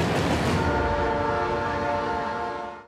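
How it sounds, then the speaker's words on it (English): A train hauling a polar bear trap through the snowbound woods of Northern Ontario near Moosonee rumbles along the rails while its horn blares loud and sustained, then everything fades out. "Phil and Jeff pilot their train carrying the polar bear trap over the last frozen river and into Moosonee."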